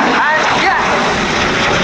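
A Turkish Air Force F-16 jet roars loudly and continuously during an airshow display, a broad, close, sustained rush of engine noise with an announcer's voice faintly underneath.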